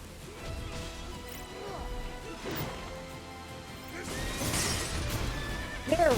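A horse neighs in the video game Stranger of Paradise, several loud whinnies over clattering combat sounds and impacts, ending with a sharp high cry.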